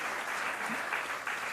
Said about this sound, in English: Pradipta Narsimha, and Anand Maya, a special clap for them for having developed that app.